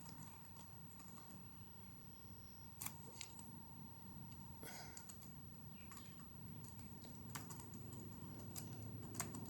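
Someone types CSS code on a computer keyboard during a tutorial, giving quiet irregular key clicks and a few sharper taps over faint background hum.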